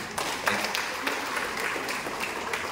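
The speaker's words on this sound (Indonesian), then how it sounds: "boleh tepuk tangan, boleh" An audience at an Indonesian talk bursts into steady, dense clapping that holds at an even level for a few seconds, close and fairly loud, with a faint voice underneath.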